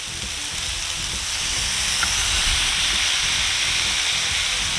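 A bacon cheeseburger patty is smashed on a hot griddle with onions, giving a steady loud sizzle and hiss that swells slightly and holds.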